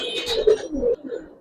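A Giribaz pigeon coos up close, a few soft, throaty warbling notes in quick succession over about a second and a half, with no talking.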